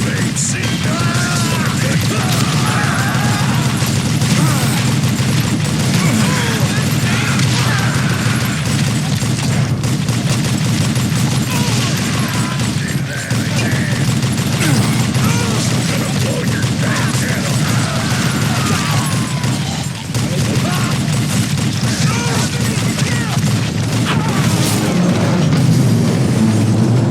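Sustained gunfight from the Western shooter game Call of Juarez Gunslinger, a loud, dense, continuous wash of gunfire and booming impacts with no pauses across the whole stretch.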